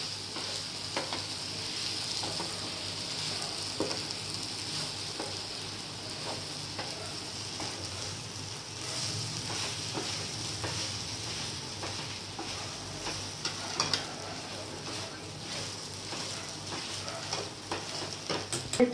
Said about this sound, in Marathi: हा ठेचा पण टाकून घेऊ आणि छान असं एकजीव करून घेऊ